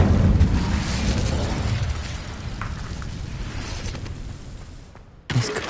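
Incendio fire spell in Hogwarts Legacy: a loud roaring burst of flame that slowly fades into a crackling, rumbling decay, then a brief silence and a fresh sharp impact at the end.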